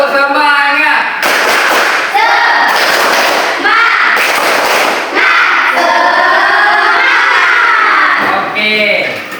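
A class of children claps in rhythm during a spirit clap in a physical education lesson, sharp loud bursts of clapping mixed with shouted chanting voices close by.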